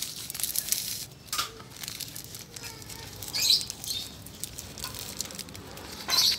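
Plastic wrapping around a plant air-layer is pulled tight and tied during the rainy season, giving close, faint crinkling and tearing rustles with a few sharper crackles.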